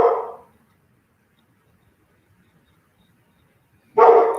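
Two single dog barks, one at the very start and one near the end, separated by several seconds of near silence.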